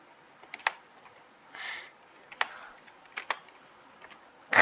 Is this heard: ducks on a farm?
no